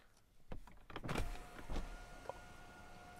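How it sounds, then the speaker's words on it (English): Rear power window of a 2022 Volvo C40 Recharge Twin lowering, a motor whir with a few mechanical clunks and a final stop, heard close inside the car, no talk. "So the rear window doesn't go all the way down."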